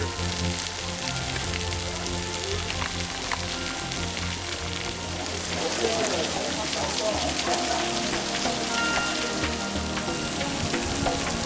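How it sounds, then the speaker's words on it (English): Rain falls among the rocks at Zion National Park in a steady, dense patter that keeps going throughout, with a watery sizzling texture and no voices. "A little bit of rain in here."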